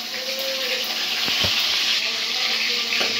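Ingredients for chicken biryani frying in a pan, a steady broad sizzle with occasional soft clinks of a utensil, fairly close and continuous throughout.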